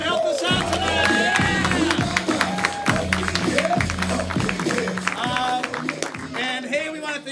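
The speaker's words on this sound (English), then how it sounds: "Keep that applause going for all our panelists that helped us out tonight." Sustained applause and cheering from a comedy club crowd, thick and continuous with occasional whoops, as a host speaks over the noise through a microphone.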